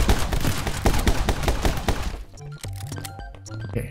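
Rapid bursts of enemy gunfire from the action game My Friend Pedro, loud dense repeated shots for about two seconds, then sparser scattered cracks and thunks fading out.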